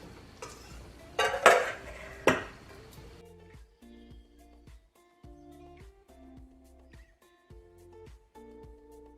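Flour stirred into pumpkin bread batter in a bowl: a few sharp clinks and scrapes at first, then a run of soft, rhythmic stirring strokes, close by and with nobody speaking.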